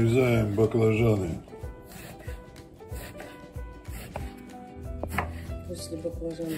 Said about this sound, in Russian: нарезаем баклажаны.